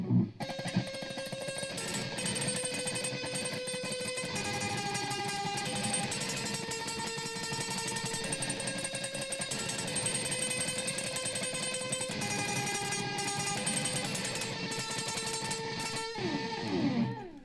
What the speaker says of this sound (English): I'm just rapid picking with that dotted eighth delay on it